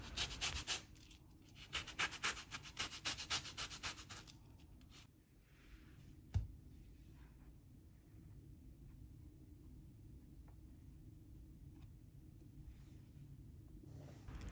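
Rhythmic scraping of a medium organic orange against a zester or grater in a kitchen, several bursts of short strokes, close and moderately loud, then fading into quiet room tone with one faint knock.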